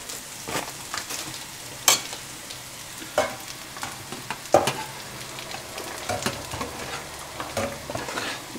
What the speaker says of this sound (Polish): Patelnia o grubym dnie, także to cały czas tutaj się powoli jeszcze smaży.